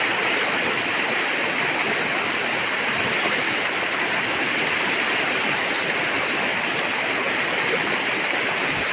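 Strong, fast-flowing stream water rushes steadily and loudly throughout, a dense unbroken roar close by with no voices over it.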